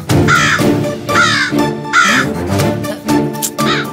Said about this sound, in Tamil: இந்த காக்கா வேற ஏன் இப்படி கத்துதுன்னு தெரியலையே.